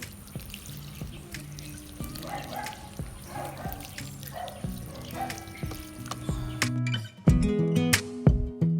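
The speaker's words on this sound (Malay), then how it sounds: "kita siram menggunakan air kulit daun bawang merah" Shallot-peel water poured over a potted mint plant, a soft continuous trickle and splash with small drips, getting louder and splashier toward the end, with no voices.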